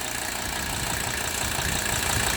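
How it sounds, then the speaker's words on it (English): A Mercedes-Benz W126 300SD's OM617 diesel engine idles while warming up, a steady, dense clatter that is close and continuous with no talk. "As I look at this engine warm up"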